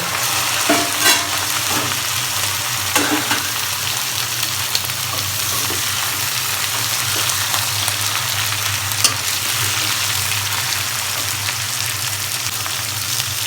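Mixed vegetables for a rohu fish five-vegetable dish frying with salt and turmeric, a loud, steady close sizzle throughout with occasional spatula scrapes and taps.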